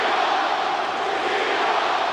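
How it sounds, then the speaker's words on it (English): A huge Seattle Seahawks stadium crowd roars nonstop during a 2003 NFL game against the Rams, a loud, steady wall of cheering with no break. "The crowd going wild as they try to mount this comeback."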